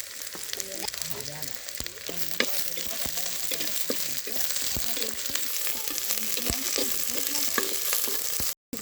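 Small onions being sautéed with green and dry red chilies in a village kitchen: a steady, continuous sizzle with occasional stirring scrapes and clicks, close and fairly loud, with a brief dropout near the end.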